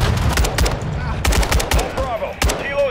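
Automatic and single gunfire in Call of Duty Modern Warfare II, a dense run of loud repeated shots and bursts through a close-range battle, with brief voices mixed in.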